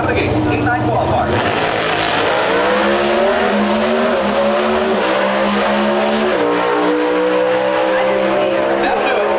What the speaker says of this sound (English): you can drive a pro stock car, like this, first pair, out of the gate